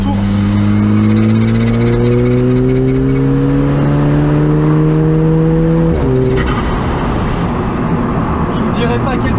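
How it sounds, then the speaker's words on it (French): Alfa Romeo 4C, a 320 hp tuned car, accelerating in fourth gear from about 3000 rpm, its engine note climbing steadily and loudly for six seconds before a gear change drops into rumbling, popping engine noise. "là je vais faire une petite accélération en 4"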